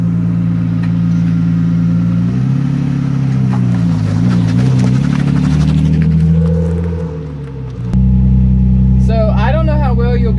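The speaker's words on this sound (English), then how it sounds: "I don't know how well you'll be able to hear me because the car is really loud" A loud BMW E36 325i with a welded differential drives with a steady, droning engine note that rises and falls through gear changes, and a person talks over it throughout.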